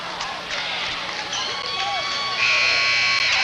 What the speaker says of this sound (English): shoots at the buzzer, and that's the ball game